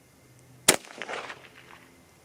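A single 6.5 Grendel rifle shot cracks sharply outdoors, followed by a rolling echo that fades over about a second and a half.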